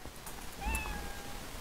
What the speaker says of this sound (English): I will just put this sound, start sound, meow